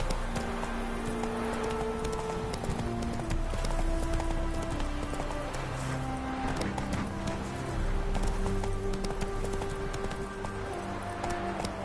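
Roach, a horse in a video game, gallops steadily with rhythmic clip-clop hoofbeats and an occasional whinny, a continuous loud run over layered game sound for the whole stretch.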